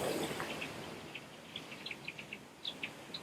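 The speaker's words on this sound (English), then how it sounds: "But a murmuration of starlings? Oh yes," A flock of starlings calling in the open, scattered faint chirps and tweets at a distance over a steady hiss of background noise, with no voices.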